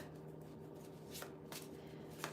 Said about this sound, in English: I'm going to shuffle backwards here.